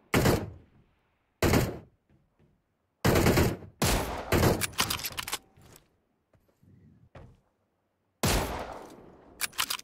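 Gunfire in Battlegrounds Mobile India comes as loud, close bursts of automatic fire separated by silent gaps, with a few fainter shots and thuds in between and a final sustained burst.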